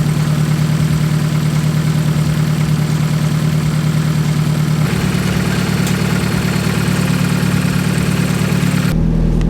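A Nissan 240SX engine idles loudly and steadily up close with a low, pulsing rumble that shifts pitch slightly partway through and again near the end.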